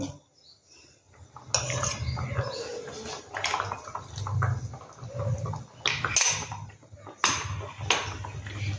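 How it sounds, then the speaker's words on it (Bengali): Water is poured into a pan of curry with malai, peas and fenugreek, a steady splashing stream broken by clinks and knocks of utensils against the pan, close and without talk. "এখানে আর একটু জল দেবো"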